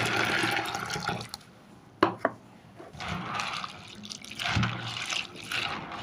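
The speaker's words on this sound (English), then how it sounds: "I'll rinse in some water." Soybeans being rinsed in a container of water: running and splashing water, then a pause broken by a couple of sharp knocks, then sloshing and swirling resumes, close and moderately loud.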